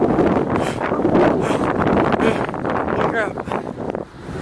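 Strong wind buffets the microphone with continuous rough roaring and gusts while a person rides a bike, briefly exclaiming over it.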